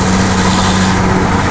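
A BMW X3 with an exhaust leak drives through a tunnel, its loud, steady low engine drone and exhaust rumble echoing close and unbroken with no speech.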